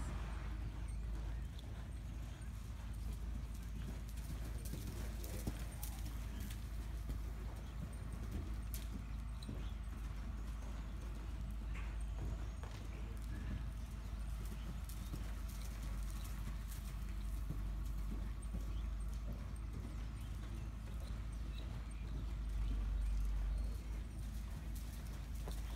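A stout gelding, a saddle horse up for adoption, steps along with steady clip-clopping hooves on muddy ground, moderately close and continuous amid outdoor ambience.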